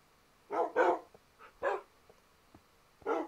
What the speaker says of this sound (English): I think the dogs are scaring the fish.